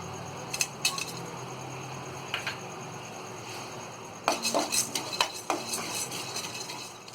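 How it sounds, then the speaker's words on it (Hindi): Melon seeds being dry-roasted and stirred in a kadhai while making mutton pickle, with scattered scraping and clinking of a spoon against the metal pan, growing into a busier burst of repeated scrapes toward the end. "अब इसी कढ़ाई में हम ये मग्स को भी रोस्ट कर लेंगे।"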